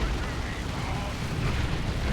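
A big zap gun fires during a Dawn of War 2: Retribution battle between Orks, a loud rumbling blast amid dense, continuous game explosions and gunfire.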